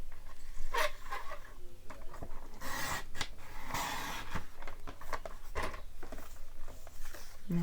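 Whisper White cardstock is cut with close, scratchy rasping strokes and scraping bursts, along with small taps and rustles over several seconds.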